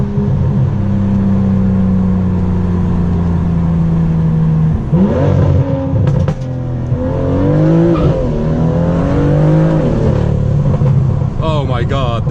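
BMW M2 with the M Performance exhaust, 450 hp, revving hard with loud engine roar, rising and falling pitch sweeps and sharp crackles and pops, heard up close from the cabin over a constant drone.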